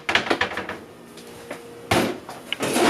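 Kitchen cabinet doors and drawers bang and clatter open and shut in quick bursts during a search for a cooking pan, with thumps and wooden knocks close by.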